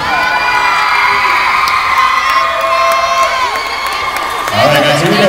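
Large crowd at a live event cheering and shouting loudly and continuously, with high-pitched children's screams and whoops throughout.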